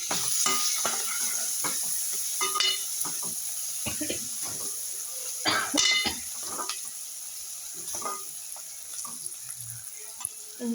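Cut green chillies frying in a pan, a steady sizzle with repeated scraping and clinking strokes of a spoon stirring, close and fairly quiet.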